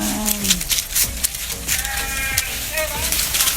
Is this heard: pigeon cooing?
no